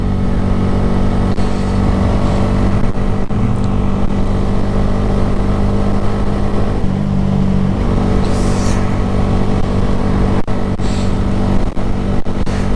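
A red Honda Grom motorcycle is ridden through cold air, its small engine droning steadily and loudly with shifting pitch, mixed with constant wind rush and occasional brief knocks.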